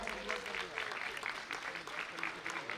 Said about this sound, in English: Come on, a big round of applause.